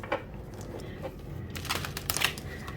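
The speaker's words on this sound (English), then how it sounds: "So I like to do rifle shuffling." Oracle cards are rifle-shuffled, giving soft riffling flutters and a quick burst of crisp card clicks near the end, close and fairly quiet.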